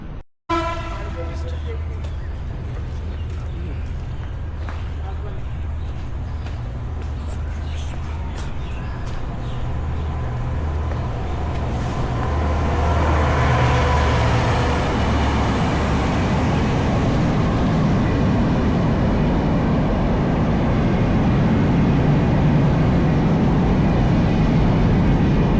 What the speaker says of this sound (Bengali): এই মুহূর্তেই কিন্তু আমাদের বেনাপোল এক্সপ্রেস ট্রেনটা প্ল্যাটফর্মে চলে এসেছে